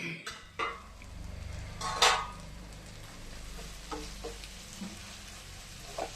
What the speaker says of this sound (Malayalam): അപ്പോൾ നമുക്ക് ഇനി ചിക്കൻ ഇട്ട് കൊടുക്കാം.